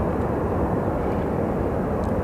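A Star Alliance airliner bound for Denver taxis at Sky Harbor Airport, a steady, unbroken engine roar holding at an even level throughout.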